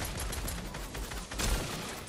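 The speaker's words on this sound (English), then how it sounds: "I'm getting shot at." Gunfire crackles in the video game Fortnite as several quick shots sound at moderate distance over steady game noise, with a sharper burst near the middle.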